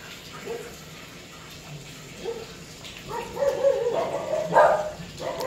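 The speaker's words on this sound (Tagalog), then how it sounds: "Ingay ng aso" A dog barks several times in the background near a fish tank, sharp yelps growing louder toward the end over a faint watery hum.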